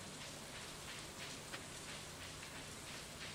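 Steady rainfall in the farming video game Stardew Valley, a continuous even hiss of drops with no breaks and no voices.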